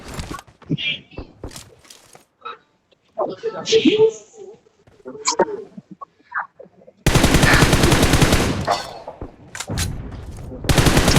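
Rapid bursts of gunfire from a shooting video game in a 3v3 match, loud sustained volleys filling the latter half, with scattered shots earlier and people talking throughout.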